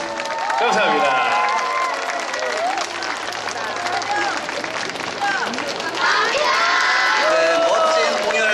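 A crowd at a community festival's opening stage in Yeoju cheers and claps for a school dance club's performance. Loud, sustained applause mixes with shouting voices and children yelling, and it swells again toward the end.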